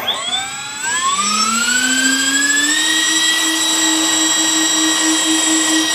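Electric ducted fans on a Tian Sheng Airbus A380 RC model airliner spool up to 50% throttle, then hold a loud, steady whine with a high tonal hum, close and alone.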